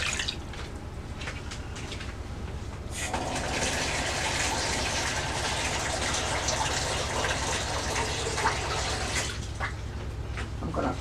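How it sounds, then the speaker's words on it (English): Water gushes steadily into a pot holding about seven pounds of pork ribs, a continuous close pouring rush that grows fuller partway through. "I have the pork in my pot and I'm going to pour water on it."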